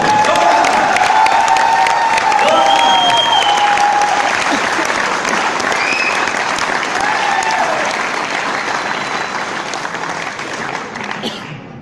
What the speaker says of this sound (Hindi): तो मैं चाहूंगा कि जोरदार ताली आपके लिए